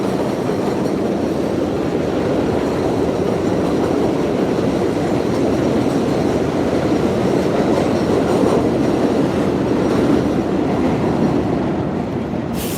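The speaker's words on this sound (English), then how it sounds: "I'm gonna wait until the train passes in order to speak." A train passing through the Bronx in New York City gives a loud, continuous rumble and rattle of wheels on rails that stays close and steady for the whole stretch.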